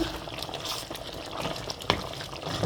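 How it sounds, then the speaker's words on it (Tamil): Steady hissing, splashing boiling water runs continuously into a pot of chicken curry at moderate distance, with a faint simmering bubble underneath and one small clink. "இப்போ நல்லா கொதி தண்ணி விட்டு"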